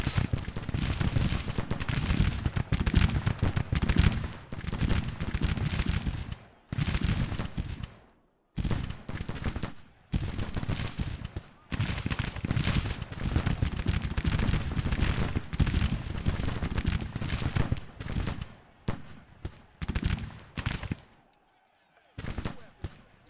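Dense Civil War battle gunfire from the strategy game Grand Tactician, Second Battle of Corinth 1862: loud, continuous crackling musket volleys and booming fire roll almost nonstop, broken by a few brief near-silent gaps.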